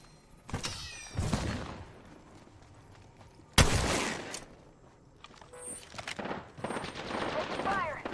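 Gunfire in the video game Apex Legends: several sharp bursts of shots and rapid volleys, loud and close, separated by brief lulls with mechanical clicks and small effects between them.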